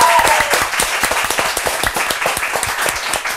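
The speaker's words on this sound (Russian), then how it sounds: "Ваши аплодисменты." A television studio audience claps for a diet specialist introduced on a cooking show, brisk dense applause sustained throughout at close range with no talking over it.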